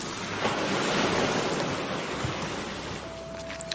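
Sea waves wash onto the shore at night in a continuous rolling roar with wind buffeting underneath; the surf holds steady and eases slightly toward the end.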